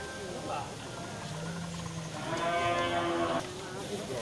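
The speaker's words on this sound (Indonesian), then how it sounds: "ini sapi indukan dari jenis sapi Aceh" An Aceh breed mother cow at a cattle market gives a drawn-out moo that swells and then fades, over low crowd murmur and background voices.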